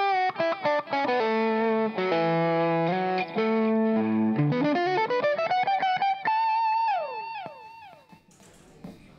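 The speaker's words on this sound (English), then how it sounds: "So that was the Il Distorsore pedal." A guitarist plays electric guitar through an Il Distorsore distortion pedal into a 4x12 cabinet: loud sustained distorted notes and bends that end in descending slides, then a faint tail.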